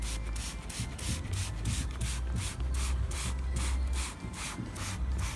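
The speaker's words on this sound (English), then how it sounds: "Keep spraying." A spray bottle of food colouring pumped onto a snowman again and again in quick bursts of hiss, close up and fairly loud, with no voices.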